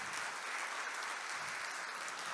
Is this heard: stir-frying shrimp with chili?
no